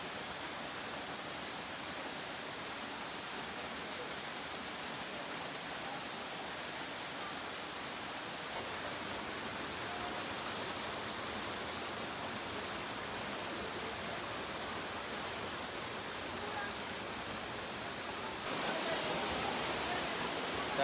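A waterfall in the Buscalan mountains sends out a steady, dense roar of rushing water that holds unbroken for about twenty seconds and swells slightly near the end.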